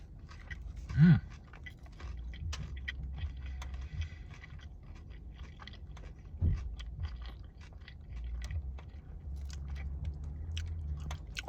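Close crunchy bite into a sandwich on crusty bread, followed by quiet, repeated chewing and soft mouth sounds, with a second crunch midway; no talking.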